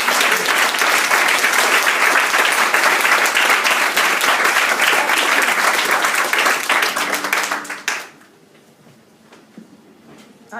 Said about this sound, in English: So a round of applause for Helen Minnis and Graham Bryce.